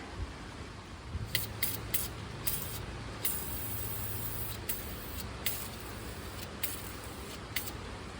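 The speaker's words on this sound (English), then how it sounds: "I'm gonna spray this with little brake cleans right here" Repeated short hissing bursts of brake cleaner spray on a 2012 Toyota 4Runner's front brake and hub assembly, several quick blasts in a row with brief pauses, close by over a low background hum.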